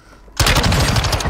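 Sudden loud automatic gunfire from Call of Duty Warzone, a rapid steady stream of close shots that starts abruptly after a quiet moment.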